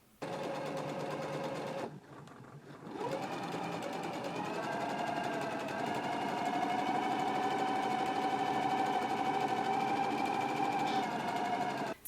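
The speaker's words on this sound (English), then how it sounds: "let's go ahead and do the stay stitching now" A sewing machine stay stitching the upper edge of a pair of shorts hums steadily and close, breaks off briefly, then restarts and runs on in a long, even whir.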